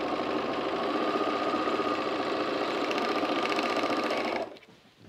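An overlocker sewing a garment together runs in one continuous, steady mechanical hum at close range for several seconds before stopping.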